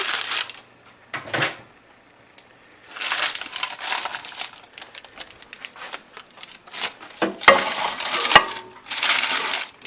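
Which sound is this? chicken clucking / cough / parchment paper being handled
parchment paper being handled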